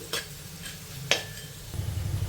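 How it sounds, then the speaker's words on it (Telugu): Soft crackle of mustard seeds and lentils frying in oil with a few sharp metallic taps of a utensil against a pan, then a steadier low sizzle near the end. "ఇప్పుడు ఈ పోపు దినుసుల్ని వేగనివ్వాలి"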